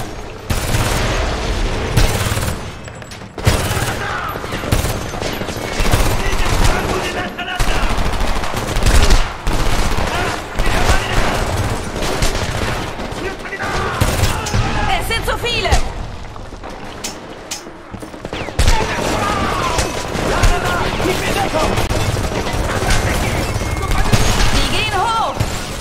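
Sustained gunfire in the war shooter video game Homefront, dense automatic bursts and heavy impacts running loud and continuous, with shouted voices over the chaos.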